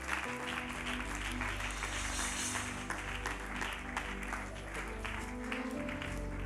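A church congregation applauds during a sermon, with steady, dense clapping filling the whole stretch at moderate volume.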